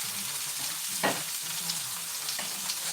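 Fried green tomatoes with sriracha sauce being stirred in a hot pan, a continuous close sizzle with a couple of brief utensil scrapes.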